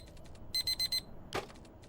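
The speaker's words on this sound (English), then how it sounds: "the alarm blares out of nowhere" Four quick, shrill electronic beeps from an alarm clock ring out, then a soft rustle follows. The beeps are close and loud against a quiet room.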